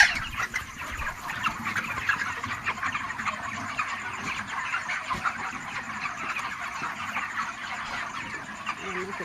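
Chickens on a poultry farm, about a month old, cluck and chirp in a dense, steady chorus at moderate distance, with faint background rumble.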